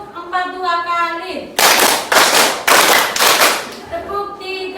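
Group hand claps from high school students playing a classroom clapping game: four or five loud, crisp claps in a quick rhythm, framed by a voice calling instructions before and after.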